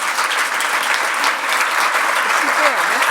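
Loud, steady applause from an audience after a round-table discussion at an evening televised event in Geneva, with a voice briefly speaking over the clapping near the end.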